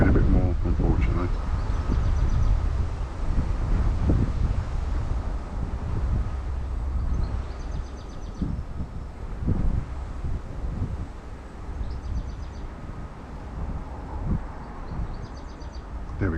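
Wind gusting by a canal while fishing, heard as loud, blustery microphone buffeting that swells and eases throughout, with faint rustling and small handling noises close by.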